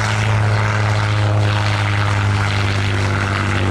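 A Hawker Fury I biplane flying a display at RAF Cosford Airshow, its piston engine and propeller producing a loud, steady, close droning roar throughout.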